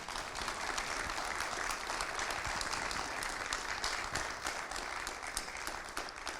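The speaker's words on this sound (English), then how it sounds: "Let's give Brian Ross a round of applause." A live audience applauds to welcome guest Brian Ross at an oral history interview, continuous mid-level clapping that stays even from start to finish.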